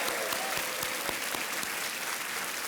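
A studio audience on the Indian quiz show Kaun Banega Crorepati applauds to welcome a contestant, a steady dense wash of clapping from start to finish with no talk over it.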